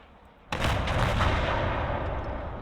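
A Scorpion tank's main gun fires in a Warhammer 40K strategy video game: one sudden heavy blast, then a long rumbling roar that stays loud and slowly trails off, with no talking.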